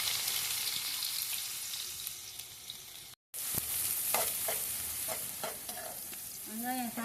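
Onions sizzle steadily in a pan over a wood-fired stove, a soft, even frying hiss broken by a brief gap and then by clinks and scrapes of stirring, with no voices.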